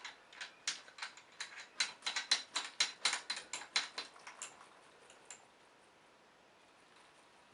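A powder dispenser for reloading Magnum ammunition clicks and ratchets mechanically, a quick series of about twenty crisp ticks in an uneven rhythm that stops abruptly, leaving quiet.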